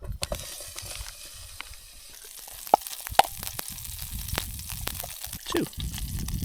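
Bacon bits frying in a pan on a Trangia camping stove at a wild camp, with a soft steady sizzle broken by a few sharp pops and crackles, close by and fairly quiet.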